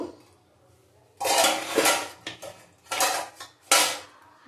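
A lid lifts off a cooking pot of fish curry with a few sharp metallic clanks and rattles, close and loud, over a quiet background.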